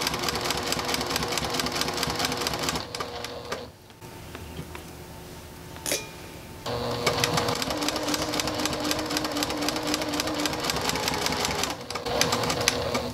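A home sewing machine driven by a foot pedal stitches a quilted Christmas stocking, running in a steady close mechanical whir that halts briefly in the middle before starting up again.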